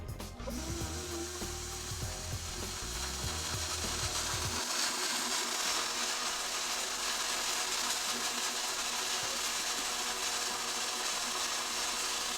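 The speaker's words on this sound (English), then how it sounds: "I'm just gonna blend it up on medium for a couple minutes" A blender mixing eggs whirs steadily on a medium setting, a continuous motor drone that settles into an even hum after some initial clunking.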